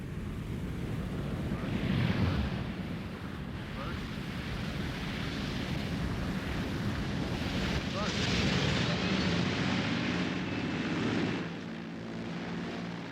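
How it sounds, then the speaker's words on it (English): An overloaded Caribou transport aircraft on its landing approach: a loud, steady engine roar mixed with rushing wind that holds throughout, swelling slightly near the middle before easing toward the end. "As the dangerously overloaded Caribou comes into land"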